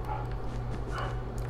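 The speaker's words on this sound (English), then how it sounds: "hopefully you guys can hear my dog barking in the background" A dog barks and yips in the background, faint and somewhat distant, with several short barks scattered over a low steady hum.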